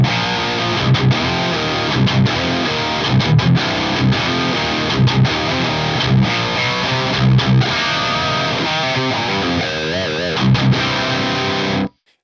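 Heavily distorted electric guitar played through an FAS AX8 modeler on the 5153 50-watt blue amp model with EL34 power tubes, loud chugging riffs with sharp muted stops and a sustained ringing passage before cutting off abruptly.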